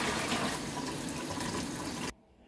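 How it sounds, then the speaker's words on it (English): Tap water gushes steadily into a container being filled for home brewing, a close, loud, continuous rush that stops abruptly near the end, leaving quiet. "probably the quickest way to do it if you don't have a hose or anything like that, to just take water directly from your tap."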